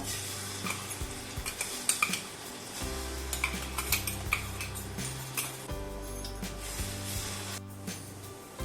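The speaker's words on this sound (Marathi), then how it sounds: "तेलामध्ये आता आलं लसूण मिक्सरला लावलेलं ते टाकूया." Ground ginger and garlic fry in hot oil in a pan, a soft sizzle with spoon clinks and stirring scrapes, under steady background music.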